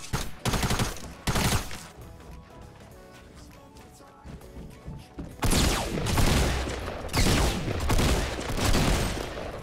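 Gunfire from the Fortnite Battle Royale video game, with bursts of rapid shots and loud booming volleys near the start and again through the second half, separated by a quieter stretch of background game sound.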